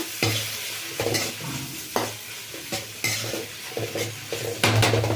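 Egg fried rice with red and green chilli sauces being stirred in a pan: repeated close scraping strokes of the spatula over a steady sizzle, with occasional metallic clinks against the pan.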